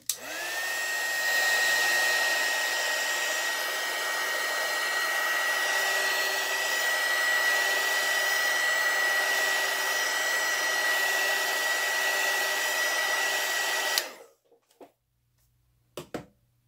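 A hair dryer blows on alcohol ink for about fourteen seconds in a loud, steady roar, then cuts off, followed by a few faint handling noises.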